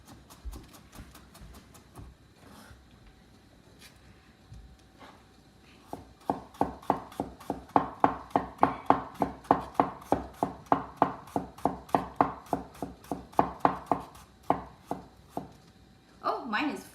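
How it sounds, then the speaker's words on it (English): Shredded turnip is chopped with a knife on a board: a few scattered taps at first, then a fast, steady run of loud, close chops that stops near the end. "I'm just chopping it while I'm waiting for the water to boil"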